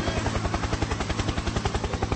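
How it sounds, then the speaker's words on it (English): A helicopter close by, its rotor chopping in a fast, even rhythmic thump with a continuous engine whine underneath, loud and steady throughout. "Helicopter, helicopter."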